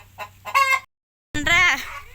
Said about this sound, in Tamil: இந்த கோழி முட்டை வைக்குமா? கோழி தானே. ஏய் என்ன கத்துற?